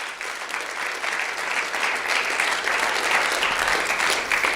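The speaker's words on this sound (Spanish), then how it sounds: "Fuerte el aplauso." An audience at a lecture on the biblical flood bursts into sustained applause, a thick, even wash of many hands clapping that holds strong for several seconds.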